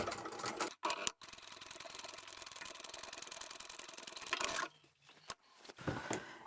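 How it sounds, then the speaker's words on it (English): A sewing machine stitches a flat felled seam on a tea towel tote in one steady, quiet run of rapid ticking. Soft handling noises come before it and after it. "So keeping that seam nice and flat here and underneath, we're going to sew straight along that line"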